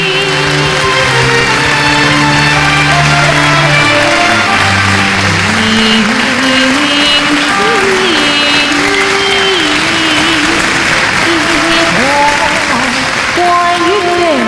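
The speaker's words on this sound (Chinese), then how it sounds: "让我们再次用热烈的掌声表示我们由衷的敬意。" Sustained audience applause fills a live Yin-school Yue opera showcase honoring Yin Xiaofang, steady dense clapping from a large crowd with a few tonal musical notes and voices woven faintly underneath.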